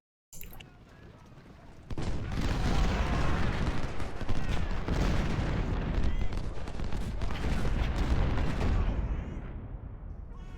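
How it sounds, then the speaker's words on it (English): Artillery barrage in Ultimate General: Civil War, beginning with a quieter stretch before erupting into a dense, sustained roll of cannon booms and musket crackle that keeps going loud to the end. "Big initial barrage."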